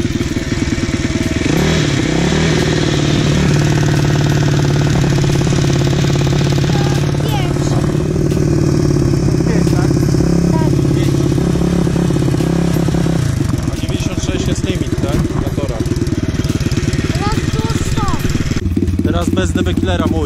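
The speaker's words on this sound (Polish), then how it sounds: "Dobra, dodaję obroty." A Freeride motorcycle engine with its exhaust DB killer removed, revved loudly and continuously at close range, rising and holding in a steady roar before dropping back toward idle.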